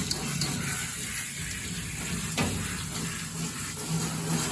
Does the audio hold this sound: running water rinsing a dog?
yes